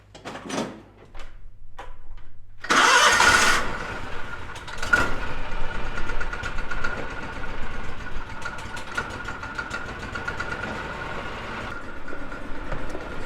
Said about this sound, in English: We got to give old Bessie a few minutes to warm up